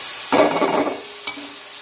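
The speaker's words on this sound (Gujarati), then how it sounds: "હવે આપણે આ ટામેટાને શેકાવા દઈશું" Tomatoes sizzle and hiss in a hot pan, with a burst of frying noise as they are stirred, then a second brief spatter.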